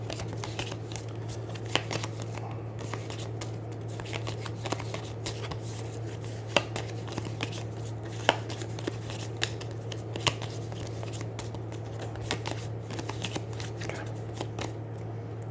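Spell cards from the Aeons End War Eternal board game being shuffled by hand, a run of soft papery riffles and snaps over a steady low hum, with no talking.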